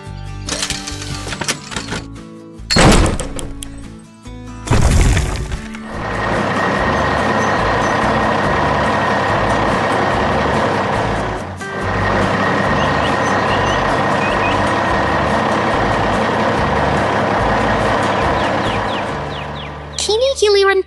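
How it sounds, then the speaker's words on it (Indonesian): Animated heavy equipment: a red truck arriving at a 3D construction site with an excavator, loud mechanical engine drone with clanks and beeping, under a steady hum throughout. "Kini giliran truk merah yang datang."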